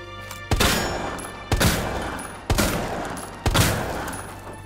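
Four heavy Desert Eagle pistol shots crack out in Resident Evil 2 Remake, evenly spaced about a second apart, each loud and close with a booming tail that rings out before the next.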